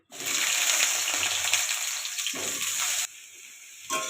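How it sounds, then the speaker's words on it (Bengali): Sliced eggplant drops into hot mustard oil, and a loud, broad hiss of frying runs for a few seconds, cuts off abruptly, then briefly resumes; no voices. "সর্ষের তেলটা দিয়ে আমি এর মধ্যে কেটে রাখা বেগুনগুলোকে আমি দিয়ে দিলাম।"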